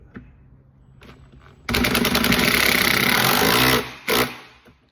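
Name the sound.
power drill drilling into a shop cart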